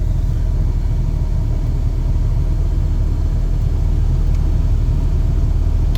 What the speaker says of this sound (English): It is blowing though, and we're not driving down the road, so let's see if it pushes out hot air.